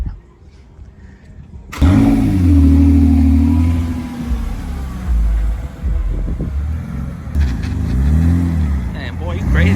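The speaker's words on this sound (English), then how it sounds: "Okay, we gotta move the cars" A BMW E46 drift-build car starts up and then revs close by in repeated rising and falling bursts over a deep idle rumble, loud against a quiet start.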